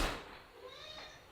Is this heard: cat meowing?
yes